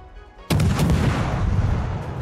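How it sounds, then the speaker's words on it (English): Heavy warship gun salvo in World of Warships: a sudden deep boom with a long rumbling roll that carries on loud for the rest of the moment, with no voices. "Fire on the enemy warship."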